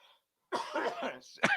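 A man coughs during a wrestling podcast conversation, a brief hoarse burst of harsh coughing followed by a sharp throat-clearing hack, close to the microphone.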